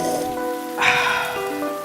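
Rain patters steadily on aluminum roofing sheets, a soft, continuous drumming that swells briefly louder midway before settling back, with faint tonal music underneath.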